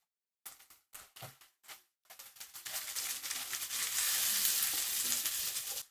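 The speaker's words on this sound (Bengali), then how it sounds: "আদা ও রসুনের কাঁচা গন্ধটা চলে যাওয়া পর্যন্ত এগুলোকে একটু ভেজে নিলাম।" Ginger and garlic paste hits hot oil in a pan with a few short spatula scrapes and stirs, then a loud, steady sizzle builds and holds, close and unbroken.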